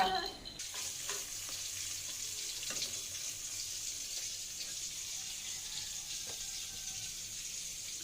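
Fish fries in a pan with a soft, continuous sizzle and faint crackles after a brief clatter at the start, heard fairly quietly without talk.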